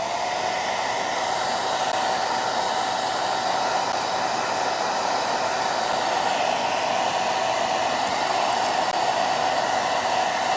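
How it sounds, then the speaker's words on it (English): A hair dryer blows continuously at close range, a steady loud whooshing hum with a constant pitch and no breaks. "Let me hit this with the dryer"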